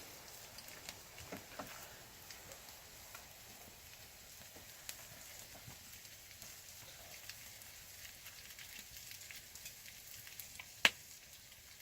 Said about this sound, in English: we got the Bannock cooking